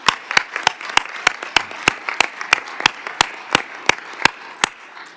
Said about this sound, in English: So please give Irene and the team a hand of applause.